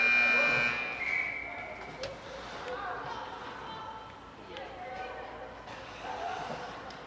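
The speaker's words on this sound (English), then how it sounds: "the buzzer will go." A shot clock buzzer sounds at the start of a hockey game between Blitz and the Regina Rattlers, a steady tone that is followed by arena crowd noise and commentary talk.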